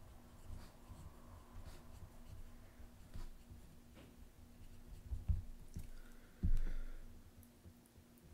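Quiet handwriting on paper: faint, close pen scratches and strokes with a few small clicks and taps, no talking.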